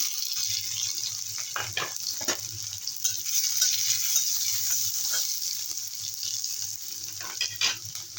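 Crushed garlic and radhuni spice fry in hot oil in a pan, giving a close, continuous sizzle with soft stirring scrapes and brief bursts of crackle.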